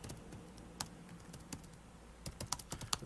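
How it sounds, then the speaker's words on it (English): Typing on a computer keyboard while entering a commit comment: a quiet, irregular run of light key clicks, sparse at first and then quicker and louder near the end, with no voices. "So I'm typing in a comment"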